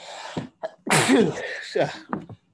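A single loud, close sneeze bursts out, followed by short breathy sounds and a brief cough-like noise.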